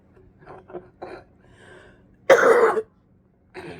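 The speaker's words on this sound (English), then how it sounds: "please forgive my cough" A single harsh, close cough bursts out after a few quiet throat sounds, followed by a shorter rasp.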